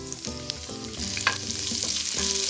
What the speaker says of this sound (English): Grab the onions, put those into the skillet.